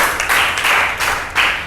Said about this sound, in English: Right answer, please clap for Jannat.